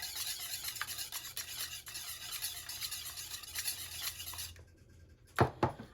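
Pancake batter ingredients with butter being stirred together in a bowl, a steady scraping, rubbing mix running several seconds close up, then a brief pause and a couple of sharp clinks of the utensil against the bowl.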